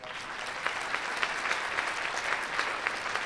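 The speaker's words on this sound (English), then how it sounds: "Let's give another round of applause for all of our awardees that are here with us today." Audience applause for awardees at an awards ceremony, a steady wash of many hands clapping with scattered sharper claps rising above it, continuous throughout, with no voices over it.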